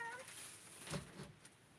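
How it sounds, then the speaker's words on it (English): A pet cat meows indoors, one short, fairly faint call rising out of a quiet room with a soft electronic tone at the start. "She's inside, my kitty cat, Patra."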